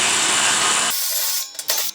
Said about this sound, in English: get a 12mm socket and remove those screws